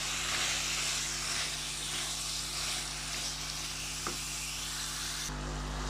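Carrots sizzling in masala in a kadhai while cooking aloo gajar matar sabzi, a steady loud frying hiss throughout with a brief stir clink.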